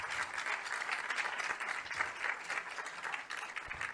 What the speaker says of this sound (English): So please, a welcome for Adam. An applause for Adam.